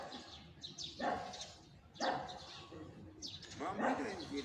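Dogs bark outdoors at a distance, three separate bursts of barking spaced about a second apart over a faint background hum.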